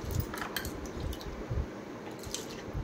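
Sago pearls being washed by hand in water in a bowl give soft, close-up sloshing, squishing and dripping sounds in irregular bursts, with faint clinks against the bowl.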